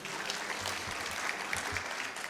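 Audience at a student leadership summit breaking into applause, a dense, steady burst of many hands clapping at once, loud and continuous throughout the short stretch.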